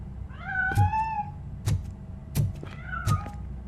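A cat meows several times in the Robocop Rogue City video game, drawn-out rising and falling cries close by, separated by short pauses, with soft dull thumps between them.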